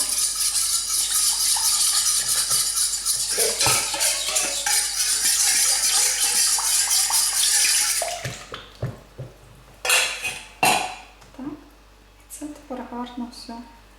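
Water mixed with pudding powder and starch is poured into a bubbling pot of cream for a Polish cheesecake, giving a steady, close hissing pour for about eight seconds, followed by a few sharp clinks and stirring sounds.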